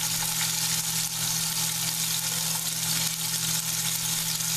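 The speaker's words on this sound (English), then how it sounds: "I'm going to start with 2 pieces of the liver in here first." Two pieces of liver fry in avocado oil, a steady dense sizzle filling the pan with a low hum underneath, continuous and close.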